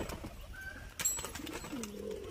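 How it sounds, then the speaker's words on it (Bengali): A female pigeon gives a few soft, low coos near the end of a brief moment, preceded by a sharp click, fairly faint and close. "এটা একটা মাদি পায়রা"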